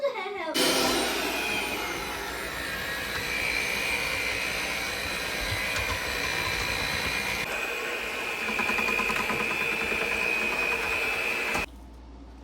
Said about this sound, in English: we're going to get the handheld mixer, and we're going to mix this up for about 15 minutes